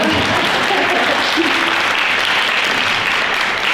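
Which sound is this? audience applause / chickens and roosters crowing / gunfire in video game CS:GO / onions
audience applause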